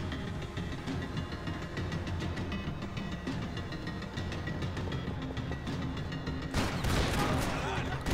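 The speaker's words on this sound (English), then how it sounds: "Shotgun!" Shotgun fire in the video game Max Payne 3, a dense clattering barrage of gunfire over steady game noise, ending in a louder burst of blasts near the end.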